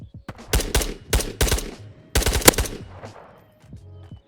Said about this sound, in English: What are these new gun sounds?